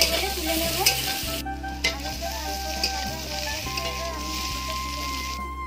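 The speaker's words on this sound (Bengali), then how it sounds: "আলুটা আমি এভাবে ভালোভাবে হালকা লাল লাল করে ভেজে নেব।" Potatoes frying in oil in a pan, a steady close sizzle broken by stirring scrapes and light utensil clinks, with no talking.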